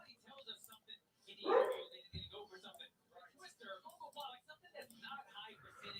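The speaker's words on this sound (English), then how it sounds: "You can hear now she's barking." A dog barks a few times in short bursts during a live MMA fight-night stream in Minnesota, faint and partly under a commentator's talk.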